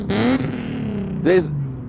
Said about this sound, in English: That's a Nissan 370Z revving like crazy.